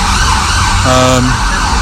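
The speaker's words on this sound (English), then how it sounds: "here comes a very loud ambulance" A very loud ambulance siren wails close by as it passes, with its rising tone over heavy traffic rumble, starting about a second in.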